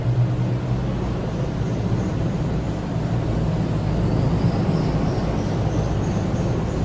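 A helicopter passes over a house near an airport, a continuous loud rumbling roar with broadband noise that holds steady throughout.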